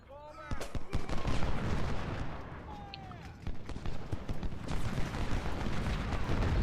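Battle sounds in the Civil War game Ultimate General, storming a Potomac fort: rapid crackling musket volleys and heavy booming artillery blasts layered into a dense, continuous fusillade with a rumbling low end.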